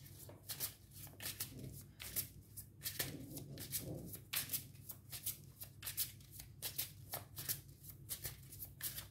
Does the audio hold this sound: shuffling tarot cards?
yes